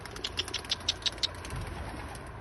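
A pigeon's wings flap in a rapid series of about eight soft, regular beats, then the quiet outdoor background continues.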